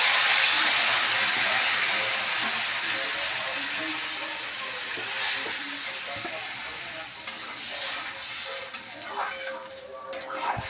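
Water poured into a hot pan of paneer curry bursts into a loud, bright sizzle that slowly fades to a gentler bubbling hiss, with stirring scrapes and clinks near the end.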